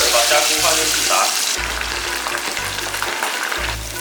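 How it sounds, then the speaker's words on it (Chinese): Mantis shrimp dusted in a thin coat of dry starch deep-fry in medium-hot oil, producing a loud, bright, continuous sizzle close by, interrupted by deep low rumbling bursts that come and go. "油温烧到5成热，把虾菇放进去炸"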